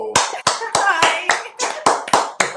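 Nine sharp hand claps in a steady, fairly quick rhythm, loud and close, each a crisp broadband smack with a short ring, with no talking over them.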